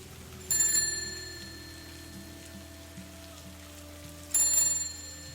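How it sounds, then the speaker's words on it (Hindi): Two bright metallic bell rings in a Hindi horror story setting, a few seconds apart, each a short jangling burst over a low, dark ambient drone with faint rain-like texture. "सुनो उसकी घंटियां।"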